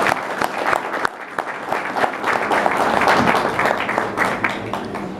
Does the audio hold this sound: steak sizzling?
no